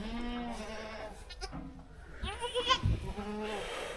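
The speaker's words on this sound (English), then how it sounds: "we had a goat have some babies" Newborn goat kids in a cold barn give several thin, wavering bleats, close and fairly soft, overlapping one another amid faint background noise.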